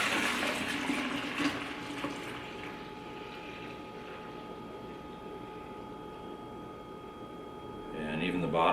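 Beer wort drains out of a brew pot in a rushing, gurgling pour that starts strong, eases to a quieter trickle, then surges again near the end, with faint voices in the background.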